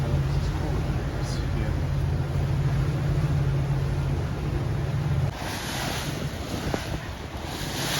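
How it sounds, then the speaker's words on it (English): Ocean breakers rolling through an inlet heard from aboard a boat, a broad rushing wash mixed with wind buffeting the microphone and a low motor hum that drops away partway through. "Crazy breakers all the way out in the inlet."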